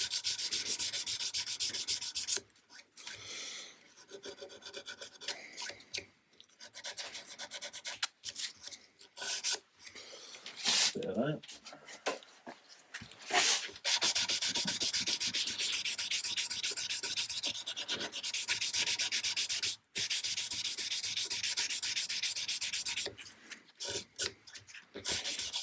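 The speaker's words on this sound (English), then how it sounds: "the joy of Corian is you can literally just sand it to 320," A Corian guitar nut is sanded by hand in long, steady rasping strokes, loud and close, with a few brief pauses between bursts of sanding.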